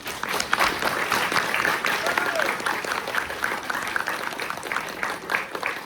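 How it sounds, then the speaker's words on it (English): Audience applause for a panel of health science capstone students at a disability and inclusion event, a steady wash of clapping from many hands lasting the whole stretch, fairly even and moderately loud. "first please let's give our panelists a round of applause"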